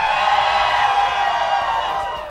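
A live crowd yells and cheers at an Alternative 99X radio broadcast of an interview with a band, a loud, sustained roar of mixed voices that fades slightly at the end.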